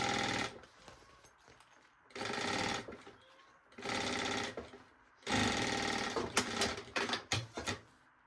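A sewing machine runs a safety seam along the cut edge of a baby backpack, sounding in four steady whirring bursts separated by short pauses, the last one longer and ending in uneven stitching.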